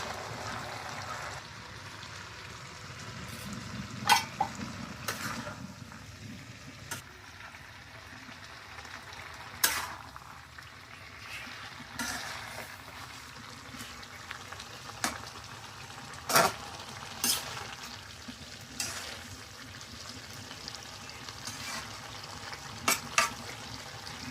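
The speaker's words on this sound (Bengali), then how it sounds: "এখন দেওয়া হইতেছে মাছ" Fish sizzling in hot oil in a pan of curry with coriander leaves, a steady close frying hiss broken by repeated sharp scraping clicks of a spatula stirring.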